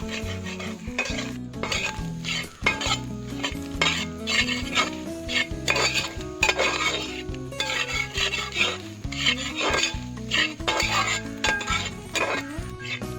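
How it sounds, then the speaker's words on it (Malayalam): Grated coconut roasting in about two tablespoons of coconut oil for a Kerala botti curry, stirred steadily in the pan with repeated scraping and rubbing sounds and a soft sizzle, while music plays loudly throughout. "കുറച്ച് വെളിച്ചെണ്ണ, ഒരു 2 ടേബിൾ സ്പൂൺ വെളിച്ചെണ്ണയും കൂടി ചേർത്ത് കൊടുത്തതിന് ശേഷം ഈ തേങ്ങ നന്നായിട്ട് വറുത്തെടുക്കാം."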